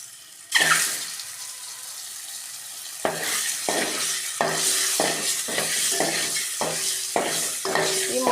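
Boiled eggs drop into hot coconut oil seasoned with turmeric and salt, bursting into a loud sizzle, followed by a run of rhythmic scraping stirs that renew the crackle every half second or so.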